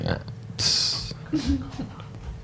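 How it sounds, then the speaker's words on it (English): A short burp from a person in a podcast setting, low and croaky, heard close with faint background noise and brief hissy sounds nearby. "Were you gonna burp again?"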